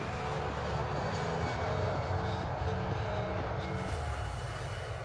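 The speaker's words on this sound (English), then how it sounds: "all lined up and ready for takeoff." Jet engines of a Boeing 787 Dreamliner spooling up at takeoff, a loud continuous roar with a low rumble and steady tonal whine, heard from inside or nearby without speech.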